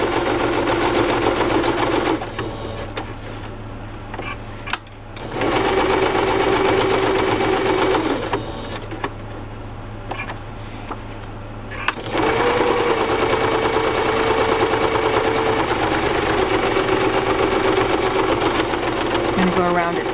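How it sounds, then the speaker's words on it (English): A sewing machine stitches around a matchbook-style junk journal notebook in loud, steady close runs with brief pauses, its motor hum and rapid needle rhythm continuing under occasional talk. "I can messy stitch it."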